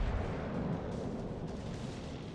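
Massachusetts battleship secondary guns firing in World of Warships Legends, a dense, continuous low rumble of rapid cannon blasts running through the whole short stretch without letup.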